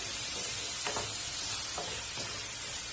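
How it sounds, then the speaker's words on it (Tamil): Crushed turkey berries sauté with garlic and onion in a hot pan, giving a close, steady sizzle broken by a few sharp stirring scrapes. "இதெல்லாம் சேர்த்து நல்லா வதக்கி விட்டுருங்க."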